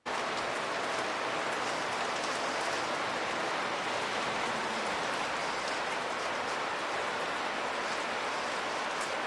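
Light rain falling outdoors, a steady even patter of drops on surfaces with a soft broadband hiss that stays constant throughout and has no voices over it.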